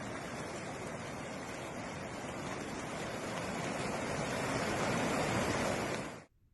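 Floodwater from a stream swollen by cyclone rains rushes around a stranded car, a steady, loud broadband roar that builds slightly toward the end before cutting off abruptly, with no voices.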